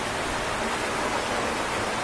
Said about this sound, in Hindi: बहुत जबरदस्त बारिश है।